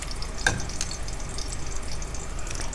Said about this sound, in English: Tortillas are cooking. We're toasting these little guys.